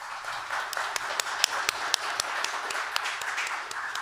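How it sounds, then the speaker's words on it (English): Audience applause at an AI debate, a dense patter of claps with sharper individual hand slaps standing out, steady and moderately loud throughout. "round of applause"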